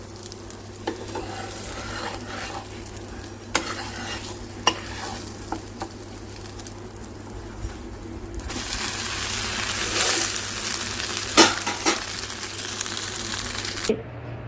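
A plain dosa fries on a hot pan with a steady, bright sizzle that swells in the second half, broken by occasional sharp scrapes and taps of a spatula.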